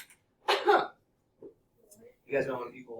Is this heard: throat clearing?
yes